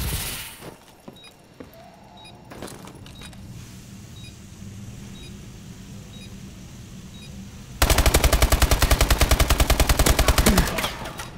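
Video game gunfire in a bomb-planting round: scattered single shots and clicks, then a long loud burst of rapid automatic fire near the end.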